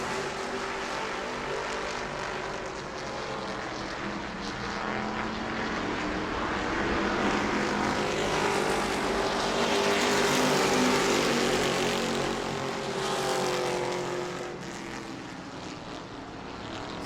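Super stock race cars running bumper to bumper down the backstretch at New Smyrna, a distant droning roar of engines that swells as the pack draws nearer, then fades slightly.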